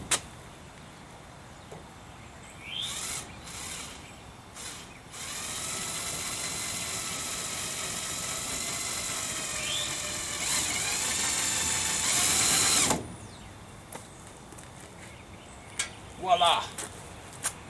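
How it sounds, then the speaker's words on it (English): A Dremel 3000 rotary tool runs in several bursts while driving screws into a door hinge, with a sustained whirring run of several seconds in the middle and short grinding spurts before and after, fairly close and moderately loud. "I'm going to try to do this next one."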